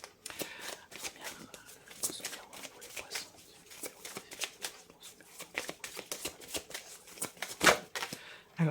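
Lenormand cards are shuffled by hand in a continuous run of crisp, papery flicks and riffles, close and fairly soft, with an uneven rhythm.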